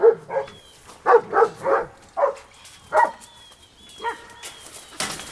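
Several dogs bark in bursts while playing, with short sharp barks and yips grouped in quick clusters, close and fairly loud, separated by brief quieter gaps.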